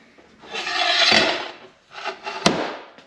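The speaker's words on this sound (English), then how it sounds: "But let's get to cutting some metal." Harsh metal rasping in two bursts, a long grinding stroke then shorter ones with a sharp clank, close and fairly loud with no voices.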